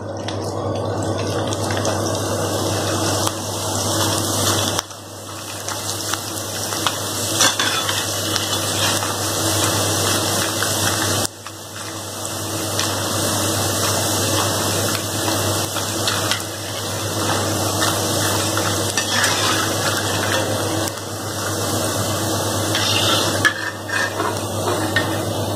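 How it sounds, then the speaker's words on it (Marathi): Sabudana potato chakli deep-frying in very hot oil makes a continuous, close bubbling sizzle with brief dips every few seconds. No voices are heard. "आता आपण हे तळूया. तेल एकदम कडक तापून घ्या."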